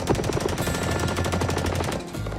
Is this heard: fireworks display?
yes